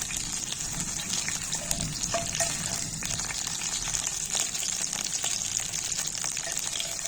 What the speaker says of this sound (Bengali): মোটামুটি ভাজা হয়ে গেছে।